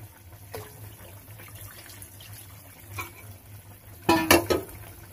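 Water poured into a pot of rui fish curry in a village kitchen: faint splashes and stirring, then a short, louder burst of pouring and sloshing near the end.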